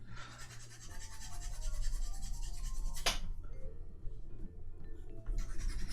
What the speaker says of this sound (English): I want to get this hammer off and file all that smooth